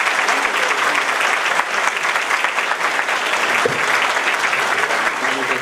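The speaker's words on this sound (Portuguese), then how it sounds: "nós tivéssemos uma salva de palmas para esse evento" Dense, steady applause from a crowd fills the whole stretch, loud and close, at a 2016 election political debate in Quissamã.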